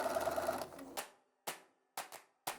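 A sewing machine stitches fabric in a short steady whirring burst, then gives several sharp separate clacks as it is stopped and adjusted, close and fairly quiet.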